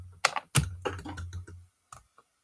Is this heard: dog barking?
no